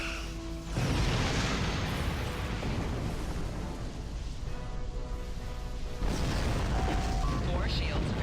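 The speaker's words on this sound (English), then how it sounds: "I don't want to get caught in the warp core explosion." A warp core explosion in the space game Star Trek Online bursts as a loud, sustained roaring blast with rumbling debris noise, a second surge near the end, and a voice speaking over it.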